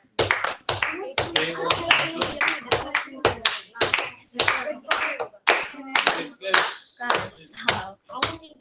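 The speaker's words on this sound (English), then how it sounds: "let's give them a round of applause" Audience applause after a question session at a Maker Faire presentation, with a steady burst of clapping from a room of listeners lasting several seconds and voices mixed in.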